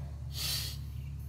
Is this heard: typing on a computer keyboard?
no